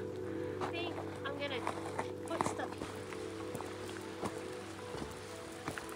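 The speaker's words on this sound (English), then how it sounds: "it's starting to sleet and rain again" Sleet and rain fall steadily at a mountain campsite on a high trail, a constant hiss with scattered tapping drops, under a faint voice and low wind.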